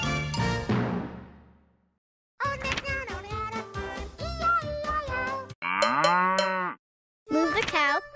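Cartoon cow mooing in the Elmo's Animals Sesame Street app game, several loud drawn-out moos separated by short gaps, with no talking over them.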